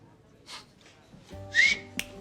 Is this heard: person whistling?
yes